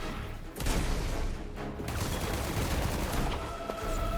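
Scatter shot magic attack firing in the video game Forspoken, a dense, continuous crackling barrage of gunfire-like blasts that holds steady and loud for the whole stretch with no pauses.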